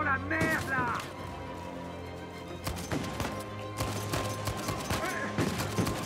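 Gunfire in Uncharted 4, repeated sharp shots in quick bursts and fusillades with impacts, loud and close over a steady game soundtrack, while someone speaks French between volleys.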